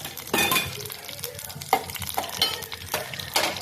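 A green chili drops into hot oil with mustard seeds and cumin, setting off crackling sizzles and spattering bursts with light stirring clinks, close and moderately loud.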